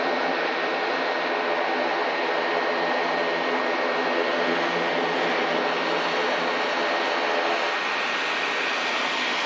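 A Jet2 Boeing 757 airliner roars steadily at Manchester Airport on a snowy day, a loud broadband jet engine rush that holds constant and eases slightly near the end, with no talk.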